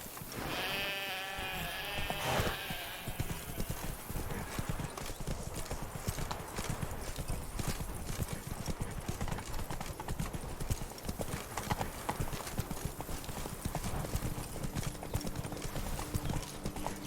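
Roach, a horse in The Witcher game's Blood and Wine expansion, trots with quick, rhythmic hoof clip-clops that carry on steadily throughout, joined early by a brief whinny and a low voice.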